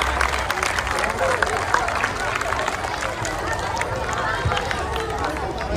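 An audience at a school Republic Day celebration claps to welcome a student onto the stage, a dense, steady wash of applause that keeps up evenly from start to finish.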